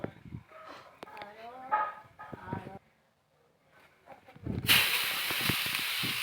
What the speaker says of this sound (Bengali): গাজরটাকে একটু নাড়াচাড়া করে নেব, যাতে কাঁচা গন্ধটা চলে যায় আর ঘিয়ের সুন্দর একটা গন্ধ বেরোয়।